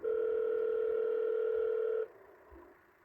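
An outgoing phone call rings back with a steady electronic tone for about two seconds and then cuts off, leaving faint low background noise.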